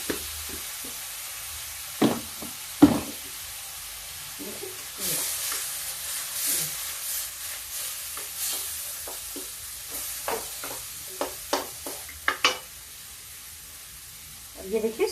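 Kashmiri chili masala sizzling in hot oil for a dry potato dish, with a little water added; a steady frying hiss runs throughout, broken by sharp spoon scrapes and stirring clatter, close and moderately loud.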